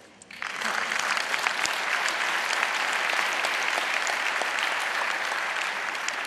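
A large audience at a congress breaks into applause, rising quickly after a brief quiet start into steady, dense clapping that fills the hall and holds for several seconds.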